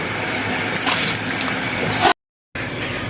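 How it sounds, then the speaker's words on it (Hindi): Basmati rice tipped from a large slotted spoon into a pot of hot water makes a steady wet, sloshing pour that cuts off abruptly to silence, then resumes briefly. "पानी है गरम, ये बड़ी कपगीर से आपने ये डालने हैं चावल सारे"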